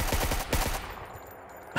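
Automatic gunfire in a video game, a rapid burst of about eight close shots that stops abruptly, followed by a brief quiet stretch and one more sharp report at the end.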